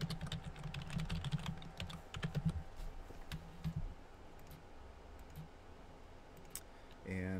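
Someone types a username and password on a computer keyboard in quick bursts of clicking keystrokes. The typing is close and gets sparser toward the end.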